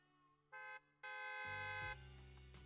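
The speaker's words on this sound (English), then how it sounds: "A loud honk echoes as several trucks" Two blasts of a loud truck horn in the video game Zenless Zone Zero, a short one then a longer sustained honk, with deep engine rumble joining in.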